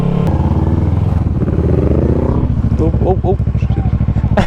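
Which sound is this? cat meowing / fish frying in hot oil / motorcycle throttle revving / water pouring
motorcycle throttle revving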